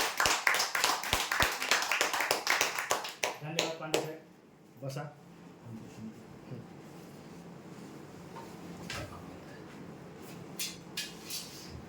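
Applause at a lottery draw, a burst of dense overlapping clapping for about four seconds that then dies away, followed by quieter room noise with someone talking and a few scattered claps.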